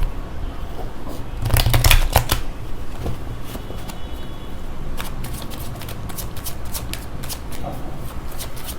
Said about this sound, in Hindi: यहाँ पर अच्छे से मेरे कार्ड्स को शफल करना चाहूँगी।